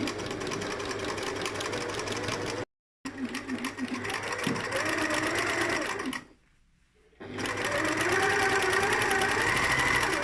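Up close, a domestic sewing machine stitches along the seam of a Christmas stocking in a steady whirring run, broken by two short stops as the fabric is turned at corners.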